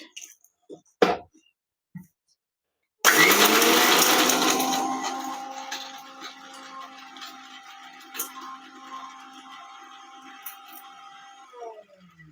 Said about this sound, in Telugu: Let's grind it.